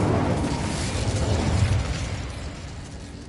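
A burst of Incendio fire magic cast in Hogwarts Legacy, a loud whooshing, crackling blast that swells and then slowly fades out.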